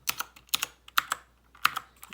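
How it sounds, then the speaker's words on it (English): Clicky blue switches on a Royal Kludge RK61 keyboard are typed in short bursts of sharp, close keystrokes with brief pauses between groups. "I have mine with blue switches"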